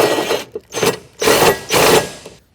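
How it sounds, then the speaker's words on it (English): A power tool tightens a bolt through an 18mm deep well socket while a 2014 Jeep Grand Cherokee bracket is installed, running in four close, loud whirring bursts separated by short pauses. "And we're cheating, we're using a power tool."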